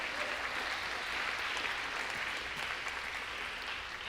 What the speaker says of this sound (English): give them another encouraging round of applause